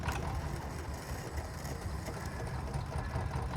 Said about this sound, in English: They have that whirring, whizzing, wind-up sound for the starter